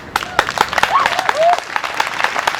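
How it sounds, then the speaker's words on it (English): An audience claps and cheers at a Black Lives Matter rally speech, a dense wash of hand claps with whoops and voices mixed in throughout. "you could clap for that"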